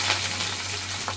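Onions frying in oil in a pan along with mustard seeds, urad dal, dried chillies and curry leaves for a ridge gourd stir-fry, giving a steady close sizzle with a low hum beneath.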